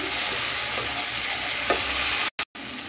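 Kasuri methi and mixed vegetables sautéing in a pan with cashew paste and spices, a continuous close sizzle with light stirring, briefly cut out near the end.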